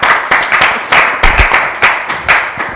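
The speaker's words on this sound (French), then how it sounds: "Merci, on t'applaudit encore." A small audience claps loosely, with uneven bursts of hand claps at an irregular rhythm, loud and close, and no other sound in between.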